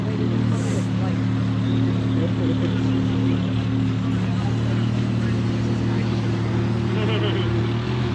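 Engines of BMWs and Supras at a car meet, a steady loud low rumble and idle throughout with crowd chatter and people talking over it.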